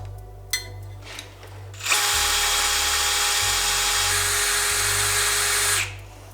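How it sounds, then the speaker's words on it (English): A power drill with a half-inch bit whines loudly and steadily for about four seconds as it bores engine mount holes in a pit trike frame, after a few faint clicks and knocks. "Drill us some engine mount holes."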